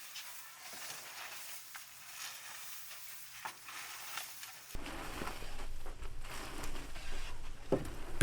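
Date palm sap with a little soybean oil being stirred in a pot over a fire, a soft steady scraping and bubbling sizzle that grows louder and denser partway through, with no voices.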